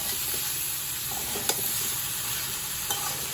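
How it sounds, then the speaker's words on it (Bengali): Pumpkin and prawns being stirred in a hot pan, with a steady sizzle of frying throughout and a few sharp clicks of the spoon scraping against the metal, close and fairly loud with no talking. "আবার সব কিছু একটু নাড়িয়ে নেব"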